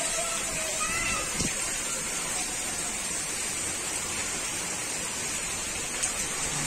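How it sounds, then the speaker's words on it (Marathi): Floodwater rushes steadily past a roadside after heavy rain in Muscat, Oman, a loud, continuous broadband roar with no pauses. "ते बघा एवढा पाणी जाते की विचारूच नका."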